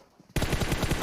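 Rapid automatic gunfire in an esports video game match starts abruptly after a short quiet moment, then continues as loud, dense repeated bursts to the end.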